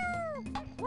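Domestic cat meowing up close in a few drawn-out, falling calls, the last one rising then dropping, against a steady background hum.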